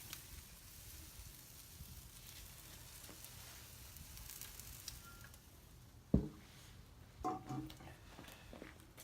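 Chicken wings sizzling on a Kamado Joe grill, a faint steady hiss of frying, with a few louder clanks and handling noises near the end.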